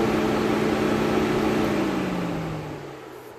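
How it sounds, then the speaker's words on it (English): The electric cooling fan of a Vauxhall Opel Corsa D whirs in a steady, loud hum with a faint tone that falls and fades toward the end as the fan winds down. "Okay, so my cooling fan is now working."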